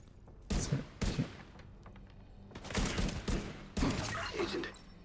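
Bursts of rapid video game gunfire come in three loud volleys, with a voice speaking between and under the shots.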